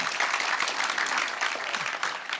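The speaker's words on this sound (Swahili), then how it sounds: "Pigeni makofi IG vizuri." Dense, steady applause from a crowd at a public security forum in Nyeri Town, Kenya, fills the whole moment at moderate loudness with no pauses.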